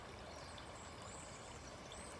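A creek flows steadily through open countryside, a continuous soft rushing and trickling of water with no pauses, heard alone at a moderate, close distance.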